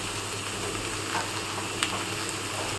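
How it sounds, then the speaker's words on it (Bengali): Pointed gourd sizzling and frying in hot oil with green chilli, garlic, dried red chilli and nigella seeds, a steady close hiss with a faint stir or scrape, no talking. "পটলটাকে কাঁচা লঙ্কা আর রসুন আর শুকনো লঙ্কা কালো জিরে দিয়ে ভেজে নিয়েছি এবার তেলে নেড়ে নেবো"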